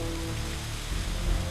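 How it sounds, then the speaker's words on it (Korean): Sudden heavy rain driven by strong wind beats down across a lagoon, a dense, steady wash of drops hitting surfaces with a low rumble, close and unbroken. "갑자기 빗방울이 쏟아지기 시작합니다."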